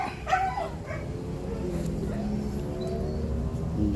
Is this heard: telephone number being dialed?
no